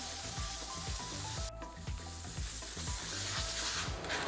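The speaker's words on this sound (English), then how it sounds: "And then rinse it down." Water runs and splashes steadily while a trashed Air Jordan 5 Fire Red sneaker with black tongue is rinsed down, a close, continuous watery hiss with rhythmic low scrubbing thumps and no talking.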